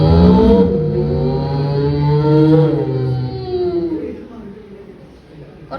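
A young performer's voice imitates scooters speeding past, a loud rising-and-falling revving whine with a sustained buzzy pitch that swells, then tapers away, performed for a mimicry competition.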